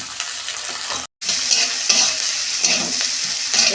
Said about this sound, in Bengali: এটা একটু ভাজা হয়ে যাক লাল লাল করে